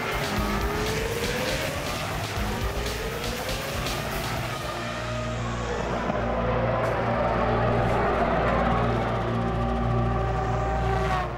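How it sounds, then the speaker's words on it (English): A Formula 1 race car with a BMW V10 engine, high-pitched screaming revs that climb and fall through gear changes, then a loud steady roar as it passes close, with faint commentary underneath. "Montoya unleashes the power of the BMW V10"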